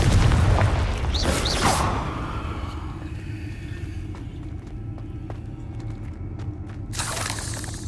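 Confringo and Bombarda spells explode in the video game Hogwarts Legacy: a loud booming blast with rumble that rolls off into a low, steady roar. Scattered crackling debris follows, and another surge of noise comes near the end.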